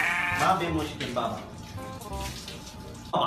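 A sheep bleats several times up close, with people speaking over and between the cries.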